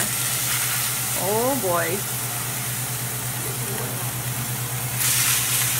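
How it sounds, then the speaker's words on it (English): Sirloin steaks sear in a hot pan at a home birthday dinner, producing a steady, close hiss over a low electrical hum while a person briefly exclaims over it. "Carlos is going to attempt the sear."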